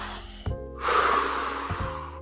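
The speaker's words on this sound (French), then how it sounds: "Allez, vous y êtes presque, encore quelques respirations." Guided Wim Hof breathing: a sharp nasal inhale, then a long, deep, airy breath out, followed by another quick intake, close to the microphone over a faint steady background tone.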